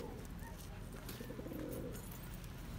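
Pigeons near a rooftop cooing softly, faint and somewhat distant, with low background noise and a murmur of voices underneath.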